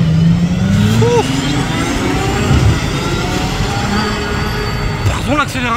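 In Monaco, a supercar's engine note rises under acceleration amid busy street noise and a voice, with other passing vehicles audible near the end.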